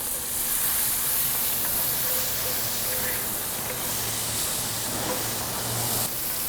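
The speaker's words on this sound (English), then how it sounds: "With the bacon getting crispy, now we can throw in our shallots and our green onions" Bacon, shallots and green onions frying in a pan give off a dense, steady hiss and crackle close by, with faint background hum and no speech over it.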